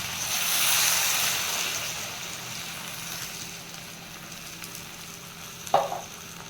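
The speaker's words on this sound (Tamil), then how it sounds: "தண்ணி வந்து ஒரு 3/4 டம்ளர் பெரிய டம்ளரில் ஊற்றுறேன்." Water poured into a pan of sizzling mixed vegetable masala sets off a loud hiss that gradually settles into a softer simmering bubble, with a brief clink of a utensil near the end.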